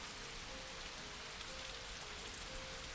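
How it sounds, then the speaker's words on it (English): Rain patters against a window as a dense, even hiss of drops, soft and continuous throughout, with no voices. "I want to hear the raindrops falling on the window."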